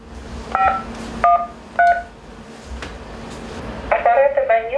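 Telephone keypad tones beep in a short series of separate presses over a low hum, followed by a brief burst of talk.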